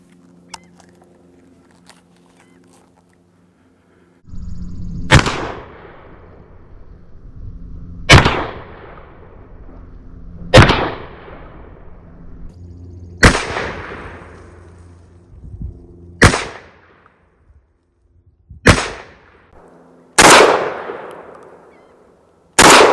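Mossberg 930 semi-automatic 12 gauge shotgun fired outdoors, about eight loud, sharp blasts spaced a couple of seconds apart, each with a short decaying echo, no talk.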